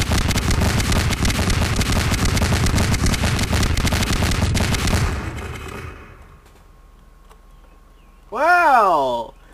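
Rapid explosions and gunfire-like bursts in the video game Garry's Mod, a dense, loud rattling barrage for about five seconds that cuts out, followed by near silence and then a short swooping electronic tone.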